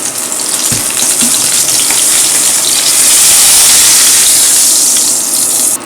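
Steak sizzling hard in a hot pan with about four tablespoons of butter just after being flipped, a loud, steady, dense hiss with faint crackles throughout and no talking.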